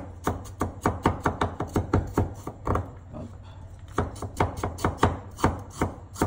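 Knife chopping fresh ginger into thin strips on a board, a steady run of sharp, close cuts in quick rhythm with a brief pause midway, no talking.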